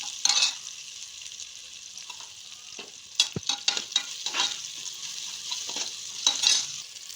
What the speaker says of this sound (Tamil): வெங்காயம் இந்த அளவுக்கு வதங்கினதுக்கப்புறமா இதில் 4 பச்சை மிளகாவை சேர்த்துக்குவோம்